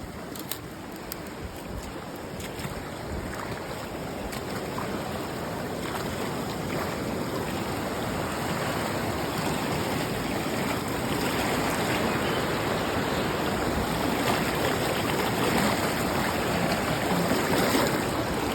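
High river water rushes down the left hand fork in Fillmore, a dense, continuous roar of churning current that grows slightly louder over time, close and steady with no voices.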